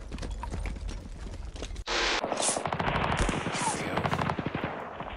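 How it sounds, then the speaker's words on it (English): Rapid machine gun fire and gunfire bursts in a World War II strategy war game set on the Western Front, loud and continuous with a dense rattling rhythm, a brief cut near two seconds, and no talk. "Machine guns."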